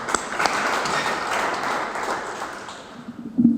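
Applause for a newly married couple at a Rwandan wedding, a steady wash of many hands clapping throughout, fairly loud and close, thinning slightly near the end.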